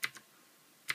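Keys strike on a Ducky Shine 2 DK9008 mechanical keyboard with Cherry MX Blue switches: two quick crisp clicks, a pause, then one more, close and isolated.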